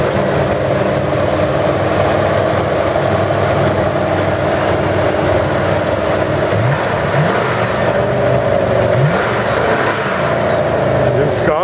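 1965 Ford Mustang V8 engine with an electric choke running warm, a loud, steady rumbling idle with a few brief revs and throttle blips toward the middle.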